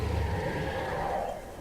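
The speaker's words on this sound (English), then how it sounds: "That's the sound of a stalker detecting me." Stalker creature in the underwater video game Subnautica detecting the player: a low, murky, rising growl-like call under a muffled underwater ambience, moderately faint, with no talking.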